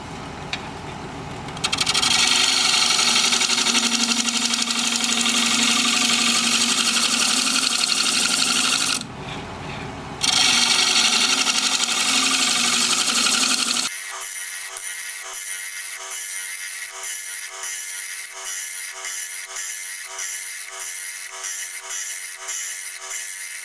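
A wood lathe spins as a tool thins the walls of a wooden bowl, producing a loud, continuous scraping hiss with two brief pauses, then a steadier, rhythmically pulsing cutting sound.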